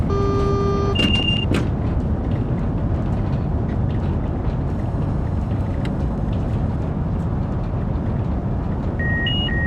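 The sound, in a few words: Class 395 train braking, from a train simulator video game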